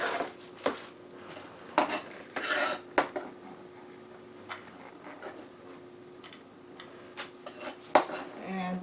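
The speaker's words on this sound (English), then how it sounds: "we're going to start by taking a frying pan and putting the onion in" Chopped onion pieces are scraped and dropped into a frying pan, with irregular clinks, rasping scrapes and soft thuds of utensils against the pan close by, separated by quieter gaps and no talking.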